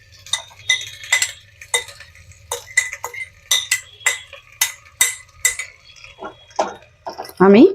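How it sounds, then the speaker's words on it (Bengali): Chicken pieces go one by one into a clay pot of yogurt and spices for a curry. A metal utensil clinks and taps against the pot in a steady series of close, bright knocks, each followed by a short scraping sound. "এবার আমি এর মধ্যে চিকেনগুলো আস্তে আস্তে"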